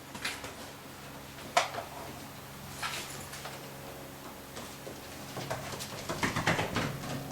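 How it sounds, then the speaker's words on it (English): Pigeon or dove calls heard indoors in an old house, soft cooing bursts at intervals over a steady low hum, with a slightly louder cluster near the end. "That's definitely a bird."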